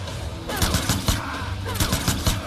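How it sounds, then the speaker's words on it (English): Rapid bursts of video-game gunfire in Mortal Kombat X, several loud cracking volleys in quick succession over a busy, dense game mix. "Oh, just getting hit by those last bullets."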